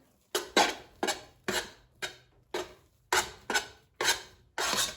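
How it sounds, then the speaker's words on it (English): Red food coloring is mixed into a Rice Krispy treat mixture in a bowl: nine rhythmic scraping, rasping strokes of a utensil against the bowl, close and evenly spaced, with no talking. "Just mix it all together."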